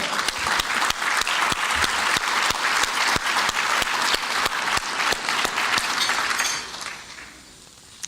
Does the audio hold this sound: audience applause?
yes